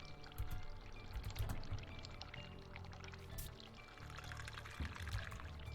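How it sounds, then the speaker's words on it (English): In The Cat Lady video game, hot water runs over a bar of soap as a steady, moderately quiet splashing stream with a few soft knocks. "We're gonna get to run some hot water."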